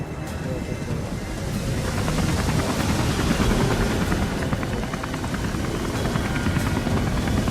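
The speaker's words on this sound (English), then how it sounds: "See if I can bring down this helicopter." A helicopter in the video game Beyond: Two Souls drones with a steady, loud rotor roar that holds throughout, with a windy, rushing texture layered over it.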